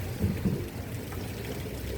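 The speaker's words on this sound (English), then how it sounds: "It's raining a little." Light rain falling during the rainy season in the Philippines, a soft steady patter with a couple of low dull thumps near the start and no talking.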